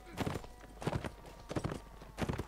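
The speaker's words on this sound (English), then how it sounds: "That was a horse." Horse hooves clip-clop in quick clusters of strikes, four separate bursts spaced about half a second apart, moderately close, in the Mount & Blade: Warband game during a battle.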